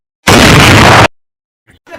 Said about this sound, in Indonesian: Meledak dah tuh lampu